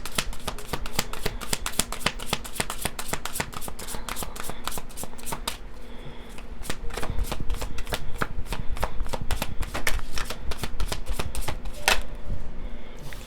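A deck of tarot cards is shuffled repeatedly up close, producing dense rapid bursts of crisp riffling flaps and sharp taps in an uneven rhythm that runs throughout.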